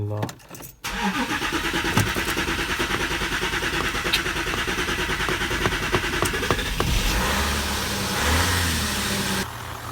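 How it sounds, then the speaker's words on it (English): Car engine that had been having problems cranks briefly, catches and settles into a steady loud idle with a slight rise in revs near the end, a few faint voices alongside. "I'm gonna start the car up now."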